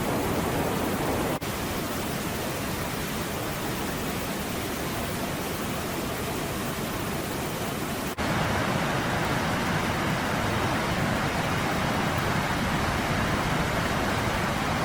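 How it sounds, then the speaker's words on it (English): Noisy, free-flowing mountain river in Kinnaur and Spiti, a steady broadband rush of water heard unbroken throughout with no voices. "I did stop to capture the beauty of the noisy, free-flowing river"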